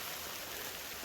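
Steady rain pours down outdoors at a truck campsite along a trail, a dense, even hiss filling the clip with no breaks and no voices.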